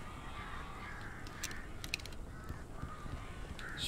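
Several harsh caws ring out over a steady noisy background, scattered irregularly and fairly distant, like a group of crows calling in the video game Alan Wake.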